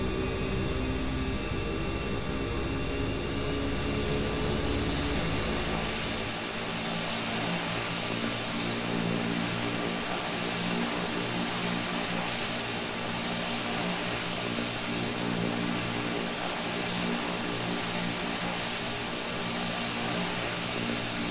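The turboprop engines of an EMB-120 propeller airliner in a flight simulator game, heard during a descent toward Kennedy International Airport. They make a loud, constant cabin drone with a steady high whine, and the pitch shifts slightly early on as the power changes.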